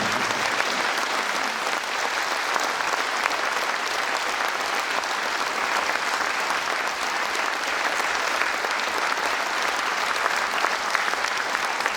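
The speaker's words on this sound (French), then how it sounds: "je crois qu'il mérite tous ces applaudissements" A festival audience gives Gaël Meunier long, steady applause after a screening, many hands clapping in a dense, even wash that holds without pause for the whole stretch.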